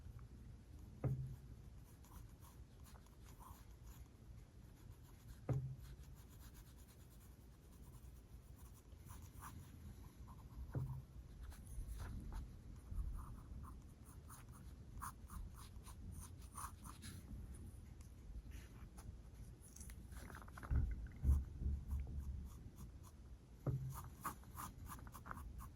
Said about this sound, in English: Again, sketch your lines in.